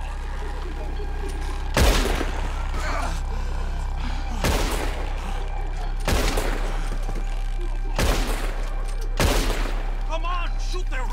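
Gunfire in Red Dead Redemption 2 aimed at ropes: four loud, separate volleys of shots spaced about two seconds apart, each decaying quickly, over a steady low game background.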